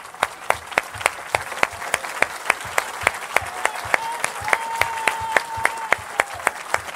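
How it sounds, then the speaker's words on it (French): A church congregation in Evry claps in unison during worship, a steady fast beat of sharp claps filling the room, with a sustained voice or tone rising softly beneath the rhythm partway through. "Receive all these applause."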